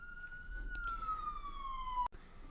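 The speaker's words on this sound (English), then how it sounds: "I had to wait until the sirens passed" An emergency vehicle siren sounds a long, falling wail as the vehicle passes, loud and close, and then cuts off abruptly.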